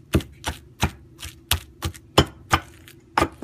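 Steady pounding of nam ngiao chili paste in a mortar and pestle, about ten sharp, evenly spaced thuds in a quick rhythm, close and clear with no talking.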